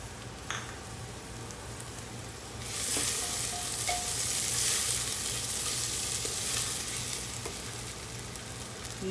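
Onion, green chilies, ginger and garlic sizzle in hot oil in a pan. A steady frying crackle swells for a few seconds as the mix is stirred, with occasional scrapes and clicks and no talking.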